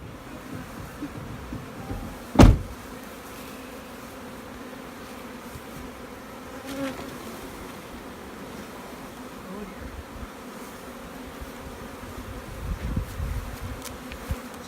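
Young honey bees hum continuously in a freshly stocked queen-rearing builder colony, a steady close drone with individual buzzes passing by and one brief loud knock early on.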